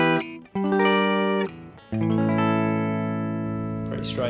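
Clean electric guitar played dry without reverb, a few sustained chords and single notes ringing clearly with sharp attacks and long decays, loud and close.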